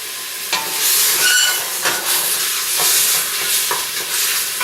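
Bacon sizzling in a hot frying pan, a steady loud crackling hiss with brief bursts of spitting fat, close up and continuous with no talk.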